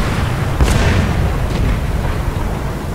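Distant gunfire and muffled explosions from a War Thunder tank battle, one broad boom near the start and a fainter thud later over a steady low rumble of battlefield noise.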